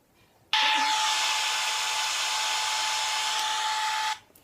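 A white noise machine plays its hairdryer setting: a steady, whirring blow with a faint whine switches on abruptly, holds evenly for several seconds, then cuts off, with no voices.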